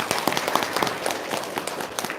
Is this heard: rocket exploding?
no